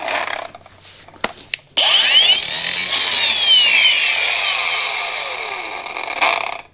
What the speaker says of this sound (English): Alrighty, now to get the angle grinder and lay on the ground.